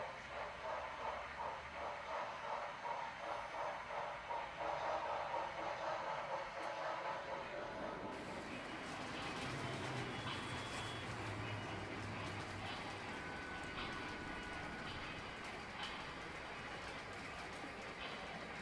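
Local freight train working through an industrial railroad yard, a continuous rumble and rolling clatter of railcars with a repeating beep early on, then steady grinding rail noise heard from moderate distance.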